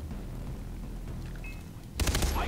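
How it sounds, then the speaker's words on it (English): Gunfire in the video game Far Cry 3, a loud burst of rapid shots that starts suddenly near the end over a steady noisy game background. "Look at that shooting."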